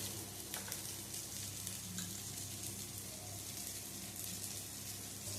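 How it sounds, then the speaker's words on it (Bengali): Cauliflower florets fry in hot oil in a home kitchen, a steady, soft sizzle running unbroken throughout with faint occasional crackles and no voices. "ফুলকপিগুলো লাল লাল করে ভাজা হয়ে গেছে"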